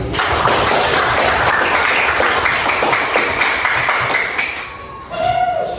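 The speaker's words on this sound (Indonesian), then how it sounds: "kita tepuk tangan dulu" A group claps together in a dense, continuous burst of applause that fades out, followed by a short ringing tone.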